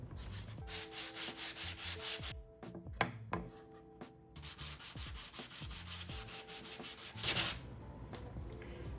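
Rhythmic sanding on a wooden cutting board with 150 grit sandpaper, a steady raspy back-and-forth rubbing with brief pauses and a few knocks, close and fairly quiet.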